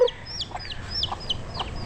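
Chickens clucking and chirping close by at feeding time on a backyard farm, a series of short repeated calls over a low background murmur.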